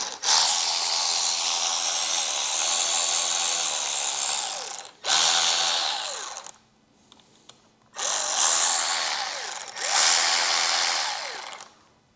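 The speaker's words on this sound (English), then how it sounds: "we're going to take a Torx T20 and we're going to remove the 2 Torx screws" A power driver fitted with a Torx T20 bit backs out screws on a Harley-Davidson Electra Glide, giving loud, close whirring bursts of several seconds each, broken by a short quiet pause. No one speaks.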